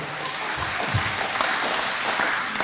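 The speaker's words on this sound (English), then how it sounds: "a round of applause" Applause at a Toyota Land Cruiser club general meeting, a dense, steady wash of clapping throughout, fairly close and even.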